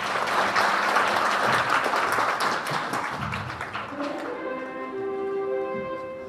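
At a Korean tattoo association's year-end awards ceremony and party, an audience gives a warm round of applause to welcome a National Assembly member to the podium, dense clapping that fades as a sustained tone of music rises.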